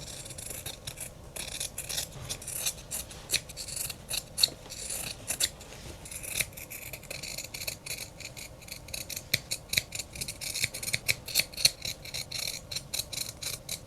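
Scissors cutting out stitched fabric flower petals, a long run of rapid, close crisp snips with a rhythmic chopping pattern and no voices.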